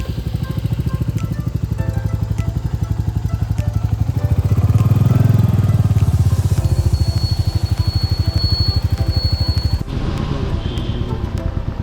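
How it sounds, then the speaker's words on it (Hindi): A motorcycle idles in neutral after a cold start on a foggy winter morning, its steady, loud, close putter swelling briefly in the middle, with faint talk in the background. "कोल्ड स्टार्ट करना है तो देख लीजिए बाइक को,"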